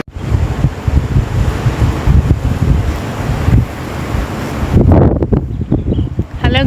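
Strong gusty wind buffets the microphone in loud, uneven rumbling bursts, with rustling underneath throughout.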